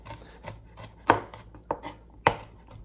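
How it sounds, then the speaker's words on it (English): Beef for a stew being chopped with a knife on a cutting board: a few sharp, irregular thuds over quiet background, close up and without speech. "So up to you how you like to chop."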